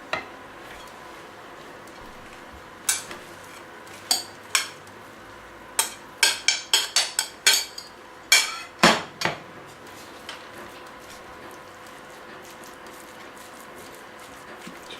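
Meat and vegetables being stirred in a frying pan, with scattered clinks and scrapes of a utensil against the pan, clustered in a busy burst midway and sparse before and after, over a quiet background.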